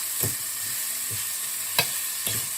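Onions sautéing in a little olive oil in a pan: a steady soft sizzle with a few brief stirring scrapes at intervals, close and moderately quiet, no talking.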